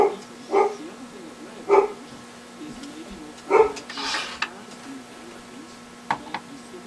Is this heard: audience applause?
no